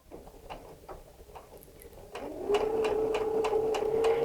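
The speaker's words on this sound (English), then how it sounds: "when I put my foot back on the controller and start stitching, it's going to lower the presser foot and start stitching again" A Baby Lock Soprano sewing machine starts stitching, its needle thumping in a steady fast rhythm, while a motor whine rises and then holds as the machine settles into continuous running, with no voices.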